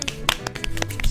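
Quick hand claps in a fast, uneven run of about a dozen sharp, close smacks in about a second, with nothing else heard.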